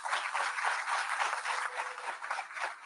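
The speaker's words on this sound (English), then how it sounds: "I want y'all to give them a round of applause." A university audience at a head football coach introduction claps in a dense, steady round of applause that fills the room without pause.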